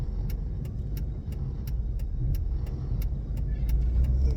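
A truck drives along a road, a steady low rumble of engine and tyres running continuously and fairly close, with a regular faint ticking or jingling on top and no talking.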